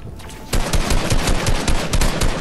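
Rapid automatic gunfire from a Fortnite match, loud, dense bursts of shots that rattle on almost continuously after a brief quieter lead-in.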